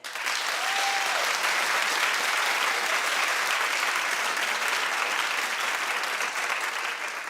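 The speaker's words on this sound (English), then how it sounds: "clap if you think it's low" A talk-show studio audience claps in a sustained, steady burst that stays even for the whole stretch, slightly distant, with no talk.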